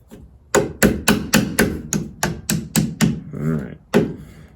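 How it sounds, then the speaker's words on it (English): A hammer drives small pins into a 1969 Firebird tilt steering column: a quick series of about ten sharp metallic taps, close and steady, with a brief voice between the last strikes. "And you hammer those little pins in."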